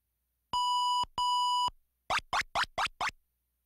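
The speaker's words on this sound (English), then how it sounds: "The skiing sequences use only simple beeps, most noticeably when Horace misses a gate" Simple beeps from the ZX Spectrum game Horace Goes Skiing: two sustained electronic tones followed by five short, quick, rising blips, clean and isolated against silence.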